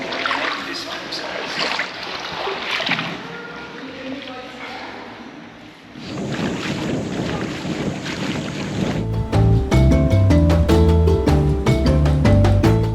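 The sailboat La Vagabond III under sail in remote Philippine waters: blustery wind buffets the microphone over rushing water along the hull, then music takes over for the final few seconds.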